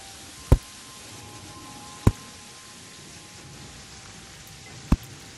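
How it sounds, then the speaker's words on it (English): Steady rain falls in the video game Terraria, a soft, even hiss throughout, broken by three sharp, isolated ticks. "well, it is raining out."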